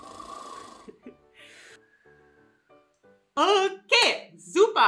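A voice imitates snoring with a few loud, rasping breaths near the end, following quieter talk and faint sounds earlier.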